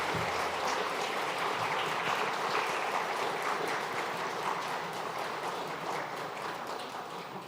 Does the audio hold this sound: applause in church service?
yes